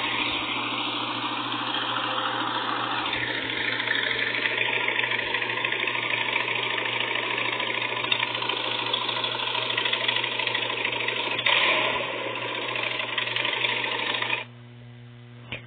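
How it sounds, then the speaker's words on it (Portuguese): A Honda Shadow Phantom motorcycle engine idles steadily nearby, a continuous low rumble with no talk, cutting out near the end. "A próxima moto que nós temos aqui pra mostrar pra vocês, que eu tenho pra mostrar pra vocês, é uma Honda Shadow"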